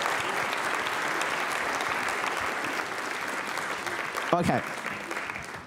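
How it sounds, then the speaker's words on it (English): Steady applause from the audience at a congress session, continuous clapping throughout, with a brief spoken word near the end over the tail of the clapping. "Please have applause again for them."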